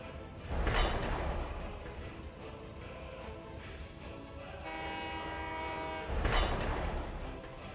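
A construction train in the city-building game Workers and Resources sounds two loud horn blasts several seconds apart, with a steady rumble of rolling rail cars and a sustained tone between them.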